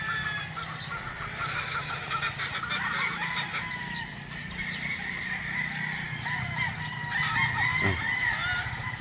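Many hens cluck and cackle together in a busy flock of about a thousand at a gamefowl farm, with a rooster crowing partway through over a steady barnyard murmur.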